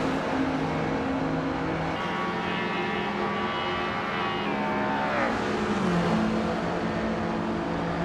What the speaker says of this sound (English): Dictusone is driving a 1970 Alfa Romeo GT, a 2000